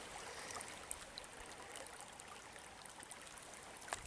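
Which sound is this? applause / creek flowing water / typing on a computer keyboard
creek flowing water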